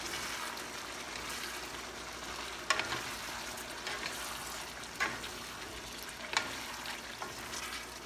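Pork igado with green peas stirred in a hot pan, a continuous close sizzle broken by a few louder spoon scrapes and clacks, with no voices.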